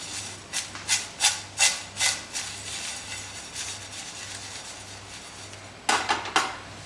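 Whole spices, including cumin, dried chilli and mace, are roasted in a pan while being scraped and stirred, giving a rhythmic series of scraping strokes that fade, then return sharply near the end, with no talking.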